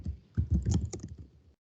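Typing on a computer keyboard produces a quick run of soft, close key clicks for about a second and a half, then silence.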